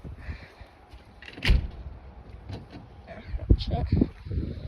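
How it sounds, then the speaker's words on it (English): A door on a farm is pushed shut, landing with a single dull thump between soft shuffling and handling noises, followed by a few lighter knocks and rattles. "I'm gonna make sure this door is shut real quick."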